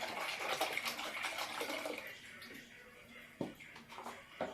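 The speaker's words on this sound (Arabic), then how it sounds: "انا غندير لتر ديال الحليب." A liter of milk poured from a carton into a pot in a home kitchen, a soft continuous splashing pour that tapers off, with a few clunks of handling and faint talk.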